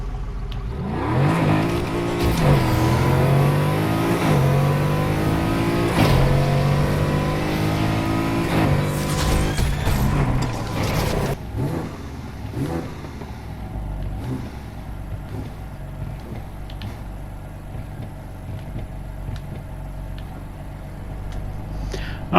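A drag car in the Need for Speed Heat video game launches down a quarter mile, its engine roaring loud and rising through several gear shifts before fading into a quieter, steady whir.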